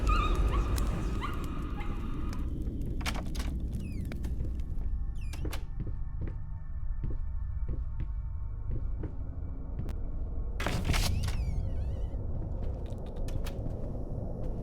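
A dog whimpers and yips in the horror video game Layers of Fear, short high whines and bark-like cries over a dense, rumbling ambient background, with a few sharp knocks.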